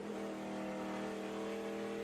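SRX race cars race at Nashville Fairgrounds, several engines roaring together at high revs in a dense, steady, loud drone, held without a break.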